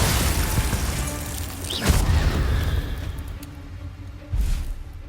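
A Confringo blasting spell going off in the Hogwarts Legacy game, heavy rumbling booms with a bright whooshing crack near the middle and another thump toward the end, loud and close over a dense battle din.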